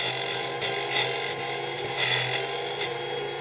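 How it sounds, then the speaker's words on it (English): A Wenxing key machine cuts a key from the tip down, giving a high, grinding whir that swells and dips in short uneven bursts, close up and without talk. "Start the machine, start at the tip of the key."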